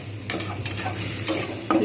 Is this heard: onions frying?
yes